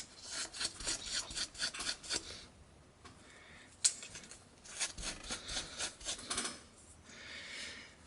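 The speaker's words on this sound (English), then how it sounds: "you'll take the steel wool and you're just going to want to rub down all the plastic" Steel wool rubbing down the plastic of a Matchbox toy car, producing quick, close raspy scrubbing strokes in rhythmic bursts with brief pauses between passes and a single sharp click partway through.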